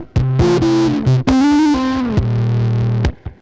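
A heavily distorted electric guitar plays a short phrase of a few sustained, buzzing notes with bends, loud and alone.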